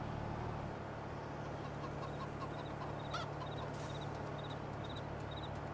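Chickens in the Farming Simulator video game on an Iowa farm map, squawking in short repeated clucks and honk-like calls over a constant engine-like drone, with a brief louder flurry near the middle.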